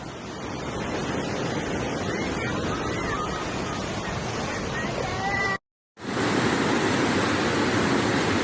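Floodwater rushes past a house on a flooded road in Trinidad and Tobago, a loud, steady broadband roar heard from a bedroom window, cutting out briefly before resuming.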